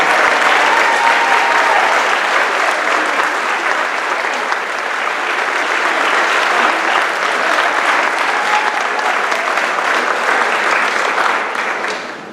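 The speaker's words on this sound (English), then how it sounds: "please stand so we can give you a big round of applause" Loud, sustained applause from a large audience honoring area leaders, a dense steady roar of clapping lasting several seconds before tapering off at the end.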